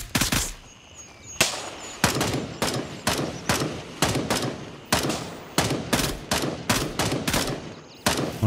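Repeated gunshots in the military shooter game Gray Zone Warfare, loud sharp reports fired in quick single shots and short bursts with brief pauses, about a dozen and a half cracks over several seconds, with no talking.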